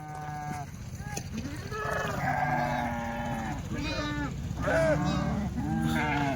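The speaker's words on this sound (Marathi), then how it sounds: "पंधरा मेंढ्या आहेत" Several sheep bleat repeatedly at close range, overlapping calls rising and falling over a steady farmyard background.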